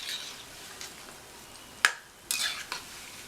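Plantain pieces for vazhakkai 65 frying over a low flame, with faint soft sizzling and a few spatula scrapes and taps as they are stirred in the pan; quiet, no talking.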